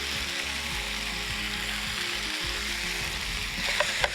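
Chicken frying in a pan with roasted sesame seeds and roasted peanuts stirred in, giving a steady, close sizzle throughout with a couple of small clicks near the end.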